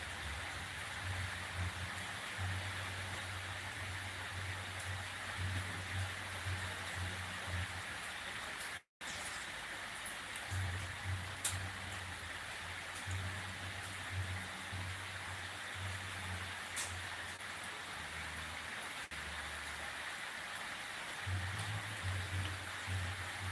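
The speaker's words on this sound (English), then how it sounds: "The rain is quite subtle, which is also nice." Light, steady rain falling outdoors, a faint, even hiss throughout with a low hum underneath and a brief dropout partway through.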